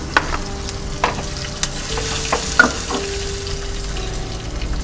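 Crushed garlic and dried chilies sizzle in hot oil with golden-brown urad dal for a South Indian rasam seasoning. A steady fry runs under sharp scraping stirs and clicks of a spoon against the pan.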